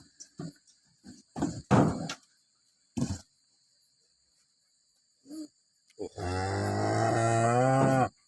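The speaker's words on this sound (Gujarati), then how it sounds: "આજે બીજી તારીખની બે ગાયો હમણાં આવી છે।" Two pregnant cows on a farm: after scattered knocks and rustling, one cow lets out a single long, loud moo near the end, with faint insects chirping in the background.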